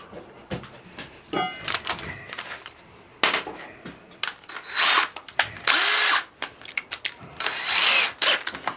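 A cordless drill drives screws into wood on a plywood workpiece, with several short, loud bursts of whirring motor and ratcheting, separated by clicks and handling noises.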